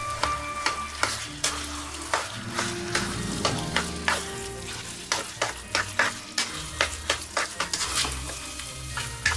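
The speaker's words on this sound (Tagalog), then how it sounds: "Halo-halo lang tayo dito hanggang mag-combine na maayos." Cooked sticky rice is stirred into a thick sauce in a pan for biko, making repeated soft scraping and squelching strokes in a steady rhythm with a faint sizzle underneath.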